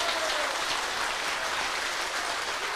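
Dense, sustained applause from a crowd at a Sunday tea dance in Chamberet, a loud, even wash of many hands clapping together without pause, with no talking over it.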